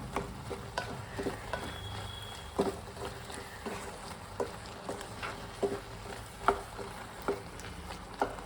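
Tomato pickle cooking in a pan is stirred with a spoon, giving irregular scraping clicks and soft knocks over a steady low sizzle, close and alone with no talk.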